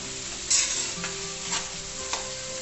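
Banana stem pieces cook for pickle in a pan, giving a soft continuous sizzle with a few scraping stirs of a spoon, close up and without talking.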